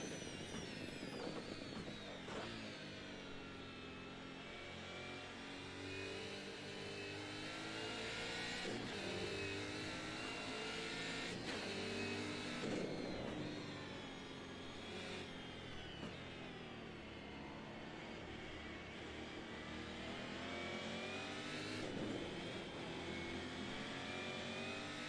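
A pack of 1990s V8 Supercars racing in Assetto Corsa, with throaty V8 engines droning and revving through gear changes for the whole stretch, several cars layered together at steady moderate loudness and no voices.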